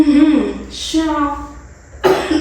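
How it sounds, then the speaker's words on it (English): A person coughs a few times close by, short harsh bursts that break off between stretches of breathy vocal sound, set off by the smell of cooking pepper steak pie in a home kitchen. "It just always makes me cough."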